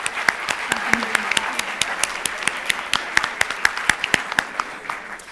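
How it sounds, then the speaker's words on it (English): Audience at a research conference keynote breaking into steady applause, many hands clapping densely and evenly for several seconds, then tapering off near the end. "please give all of them a big round of applause"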